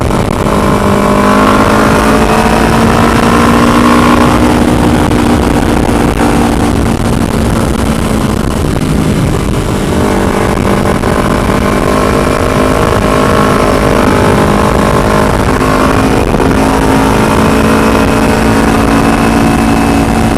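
Loud, continuous motorcycle engine drone with rising and falling pitch as the bike accelerates and eases off, wind rushing throughout.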